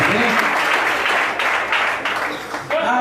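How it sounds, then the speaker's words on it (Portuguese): A church congregation applauds loudly and continuously during a service, with a few voices calling out over the dense clapping. "E a igreja aplaude e glorifica o nome do Senhor Jesus"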